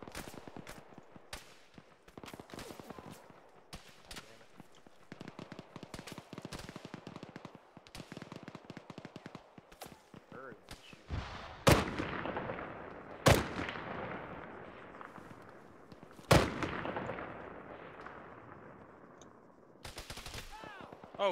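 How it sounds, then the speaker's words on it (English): Heavy gunfire from across a valley in a military combat game: dense bursts of machine-gun and rifle shots rattle on and off, punctuated by several loud, sharp reports, some near and some distant. "who the hell is actually shooting at me?"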